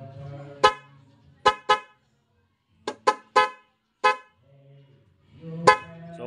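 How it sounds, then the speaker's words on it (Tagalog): A loud horn wired through a dual contact horn switch blares in short separate honks, some single and some paired, with a quieter steady tone and brief talk in the gaps. "pag pinindot natin to, ang gagana yung loud horn"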